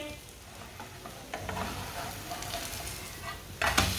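Aloo paratha frying in a pan, a steady soft sizzle running throughout at close range, with a brief louder scrape or clatter near the end as it is handled.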